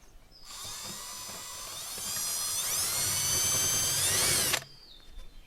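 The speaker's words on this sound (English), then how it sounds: "So I've drilled some pilot holes in here to put my screws through" Power drill boring pilot holes into a wooden fireplace mantle in an 1850s farmhouse, a close, loud whine that ramps up in pitch and cuts off abruptly after about four seconds.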